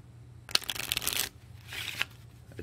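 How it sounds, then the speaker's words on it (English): A deck of purple game cards for the card game Little Drop of Poison is shuffled by hand in two quick riffling bursts, close and crisp, with a short pause between them and no talking. "Admire my amazing shuffling skills."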